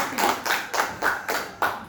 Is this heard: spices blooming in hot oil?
no